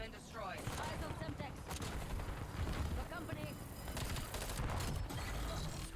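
Rapid, loud video game gunfire fills the whole stretch, overlapping booms and shots with a voice talking over the action.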